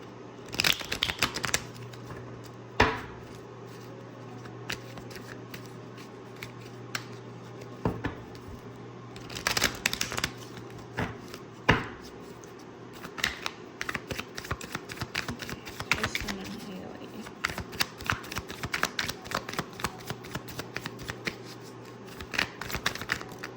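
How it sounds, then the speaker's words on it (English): A tarot card deck being shuffled close up, with repeated crisp riffles and soft card slaps in irregular bursts, fairly quiet and without talk. "Let's use the tarot deck today."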